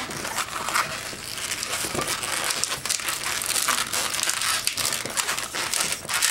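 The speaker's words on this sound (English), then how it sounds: "As always, we're going to start by making a tulip twist on the end. Secure that by making the 2 pinch twists behind it to hold it." A long latex balloon is twisted into a tulip twist and two pinch twists, giving close, continuous squeaky rubbing and crinkling with sharp squeaks scattered throughout.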